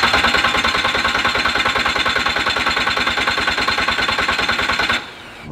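A VW Vanagon converted to a turbocharged Boxer TDI diesel cranks hard without firing, a loud rapid rhythmic starter churn that runs steadily for about five seconds, then cuts off abruptly.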